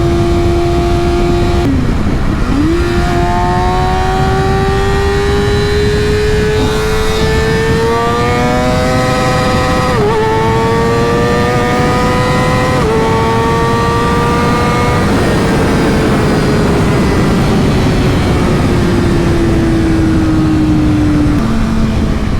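A 2019 Kawasaki ZX-6R sport bike with a Yoshimura Alpha-T exhaust revs hard through the gears on a ride, its loud engine rising in pitch, briefly dropping at each quick shift, then climbing again, with heavy wind rush throughout.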